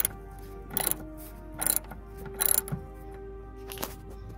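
A socket wrench with a number 10 socket ratchets on a front bumper bolt of a Mazda MPV, giving short bursts of clicking at a close distance against quiet background hum.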